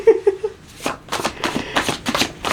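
A deck of playing cards being shuffled up close, a series of rapid riffling bursts in quick succession after a few soft handling sounds.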